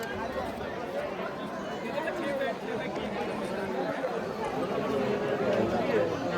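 Dense crowd chatter fills a busy battery car stop at Vaishno Devi during Navratri, a steady babble of many voices with footsteps and shuffling mixed in, building slightly louder toward the end.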